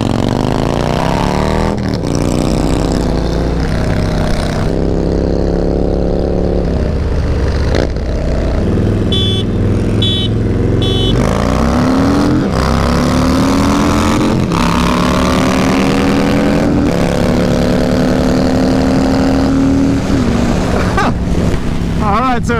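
A 2018 Harley-Davidson 114 Fat Bob and a Lowrider S 110 riding together, their engines droning loud and close with rising and falling revs over heavy wind rush, with talking at points.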